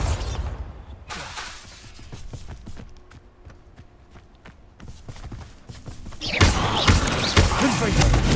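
A Bombarda blasting spell goes off in the Hogwarts Legacy video game: loud explosive bursts at the start and end frame a run of rapid thuds and clattering impacts in between, with a voice speaking faintly along the way.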